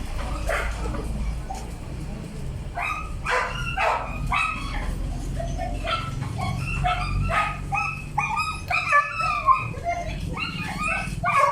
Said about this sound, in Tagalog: may aso, maingay talaga